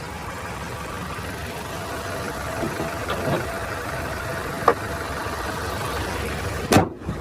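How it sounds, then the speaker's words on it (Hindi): A 2022 Kia Carens Luxury Plus automatic's 1500 cc diesel engine idles with a steady low rumble and a faint clatter, with a few brief knocks and clicks near the end. "तो ये था 1500 सीसी डीजल इंजन"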